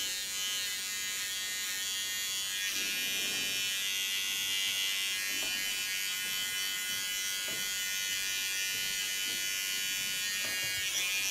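A small electric hair clipper buzzes continuously while trimming an ultra-short pixie cut, a steady close-up motor whine that barely varies, with faint movement as the blades work through the hair.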